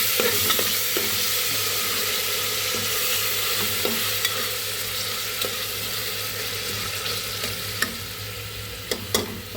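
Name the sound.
stirring curd into veg pulav in a cooker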